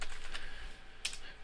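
Keys on a computer keyboard being typed as a URL is entered, a few quick soft clicks close by against a quiet background.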